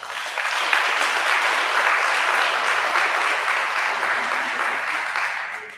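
Sustained applause from an audience after a piano and music recital, dense steady clapping holding at an even loud level for several seconds before easing slightly at the end.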